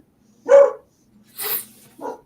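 A puppy gives three short barks and yips, spaced about a second apart, close and clear against a quiet background.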